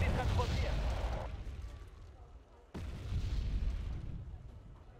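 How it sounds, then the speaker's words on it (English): Booming artillery strikes in the Wargame: Red Dragon strategy game, with a heavy impact at the start that fades, then a sharp new blast followed by rumbling explosions. "I'm going to continuously have that artillery come in though."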